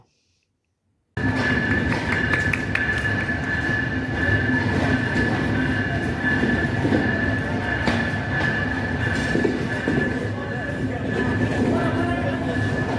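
The Ruposhi Bangla Express passenger train runs along the Benapole–Dhaka line, a loud continuous rumble of wheels and carriages with a steady high-pitched whine from the rails, heard from onboard and starting abruptly after a second of silence.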